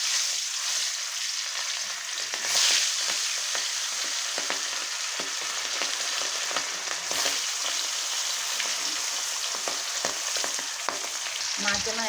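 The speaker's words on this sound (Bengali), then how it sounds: "তেল আমার গরম হয়ে গেছে, এখন মাছগুলো আমি ভেজে নেব" Dhai fish frying in hot oil, a steady dense sizzle and crackle running evenly throughout with faint utensil ticks, no voices.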